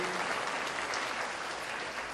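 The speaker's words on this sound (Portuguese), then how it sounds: "Pode aplaudir ao Senhor." A church congregation applauds during a sermon, steady dense clapping filling the room at even loudness, with no voices standing out over it.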